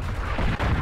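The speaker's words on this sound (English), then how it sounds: "Oh, artillery." In the Verdun trench warfare game, artillery gives heavy, rumbling booms, a continuous deep barrage that rolls on loud and close through the whole moment.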